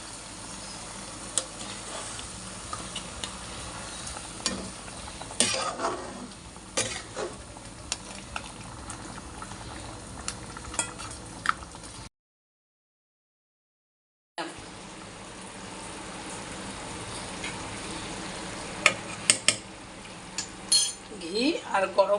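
Coconut milk is poured into a pot of shrimp malaikari and stirred, giving soft stirring scrapes, light bubbling and occasional clinks of a spoon against the pot, fairly quiet and close, with a brief silent gap midway.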